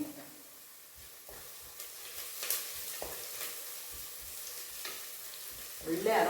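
Crushed garlic and grated ginger frying in a pan for millet dal khichdi, a soft steady sizzle with occasional stirring scrapes, growing louder near the end.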